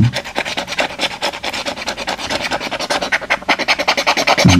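A lottery scratch card being scratched, heard up close as a rapid, rhythmic rasping of short repeated strokes, steady throughout and alone without talk.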